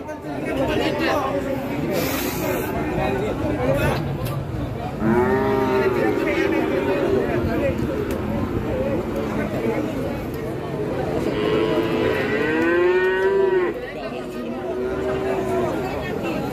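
Cattle moo repeatedly at the Jatirogo cattle market, where Limousin and Simmental bull calves are traded. Several long, loud bellows rise over constant crowd chatter and nearby talking.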